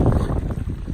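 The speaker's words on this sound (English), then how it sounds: "South wind, real windy." Strong south wind gusts buffet the microphone in a brief, loud, rumbling burst of low roaring noise.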